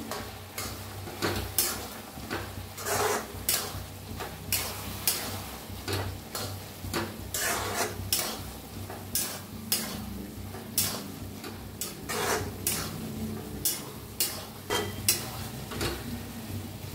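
A spoon stirs chili powder, coriander powder and garam masala into a tomato-onion vegetable dish in a pan. Steady, repeated scraping strokes come close and fairly loud over a faint background sizzle, with no talking.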